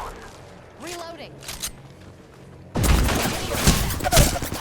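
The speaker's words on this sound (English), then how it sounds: "Oh, I'm being shot from behind." Loud, dense gunfire in a shooter video game erupts partway through, a rapid barrage of shots after a quieter stretch with a voice talking over game sounds.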